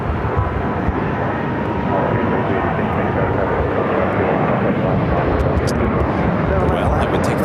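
A jet airliner rolling for takeoff on a runway at Phoenix Sky Harbor airport, a broad, steady roar that holds loud throughout, with faint talk in the background.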